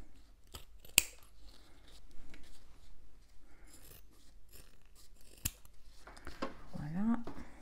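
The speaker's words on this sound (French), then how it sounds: "Après, je n'ai plus qu'à couper dans le prolongement." Scissors cut fabric for a sewn toiletry bag, quiet crisp snips and scattered clicks close by, with soft handling rustles and faint background noise.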